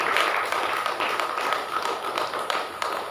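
A church audience claps during a Tamil Christian sermon, with many overlapping hand claps forming a steady, fairly bright patter that holds level for several seconds, with no talk over it.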